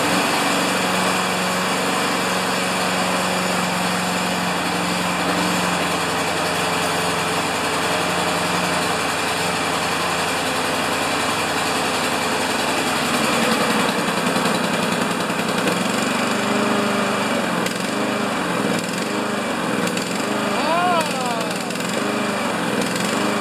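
A Craftsman lawn mower with a Honda engine runs steadily and loudly throughout, a constant close engine drone, with some shifting tones toward the end and no talking.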